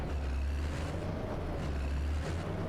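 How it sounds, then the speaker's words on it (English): A steady low engine drone from a 170-horsepower tractor straining to pull a heavy trailer across a long field in a farming video game, continuous and rumbling with no talk. "Come on, tractor."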